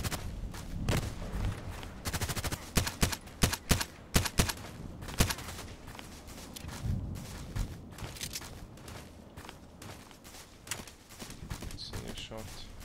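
Gunfire in the online shooter Contract Wars, a series of sharp shots and short bursts under a steady game background, loudest in the first half and sparser later.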